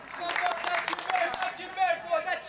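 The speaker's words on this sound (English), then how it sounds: "they're really cheering every run" A crowd cheers and applauds at a European Cricket T10 match, a steady roar heard from a distance beneath a commentator's voice.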